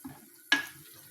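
Food frying in a pan is stirred once, a short sharp scrape and sizzle rising from quiet, then fading.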